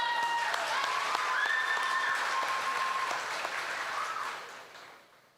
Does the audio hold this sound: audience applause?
yes